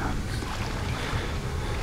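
Continuous watery sloshing from a crouched character wading through water in the game Outlast, dense and steady throughout, close and unbroken, with no voices.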